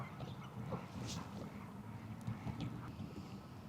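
Ducks quacking around a trout fishing spot after rain, scattered calls mixed with wind buffeting the microphone and water noise, moderately near and fairly continuous with no talk.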